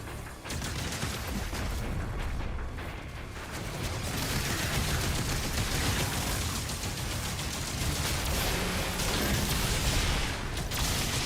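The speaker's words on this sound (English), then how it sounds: "that shoots the machine gun from across the map." A spider enemy in Doom: The Dark Ages fires a machine gun across the map, a loud, dense, unbroken barrage of rapid gunfire and booming impacts that fills the whole stretch without pause.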